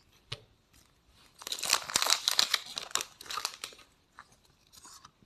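A Pokémon card booster pack is crinkled and torn open up close, with a sharp tap, then bursts of crackling foil wrapper and scattered rustles, no talk.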